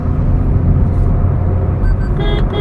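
A family car's engine drones low and heavy as it accelerates on the road in fifth gear near 2500 RPM, a loud steady rumble heard from inside the cabin.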